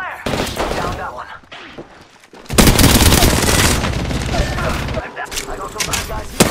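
Dense video game gunfire rattles in rapid bursts, loud and close, with heavy automatic volleys and short pauses, and a voice speaks briefly amid the shooting.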